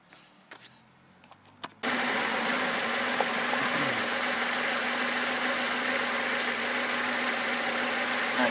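A Toyota Tarago engine with a freshly cleaned throttle valve cable, running steadily at a fairly loud, constant idle-like drone after a few faint clicks and knocks at the start.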